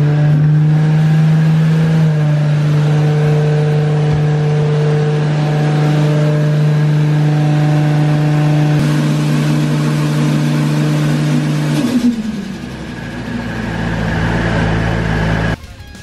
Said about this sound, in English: sounds like they've got the GTR on the dyno.